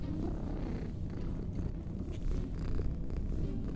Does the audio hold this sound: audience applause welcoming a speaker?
no